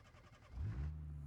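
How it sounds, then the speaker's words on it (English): Startup of a Cummins diesel swapped into a Ford Galaxie in the BeamNG driving game: a faint cranking patter gives way to a low engine catching and settling into a deep idle hum. "we need to get the startup sound because the way that it does it in game is really cool"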